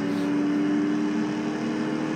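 A steady, droning car engine hums from the CSR2 racing game, holding a constant mid-pitched tone with a slight whine on top, loud and continuous with no talk over it.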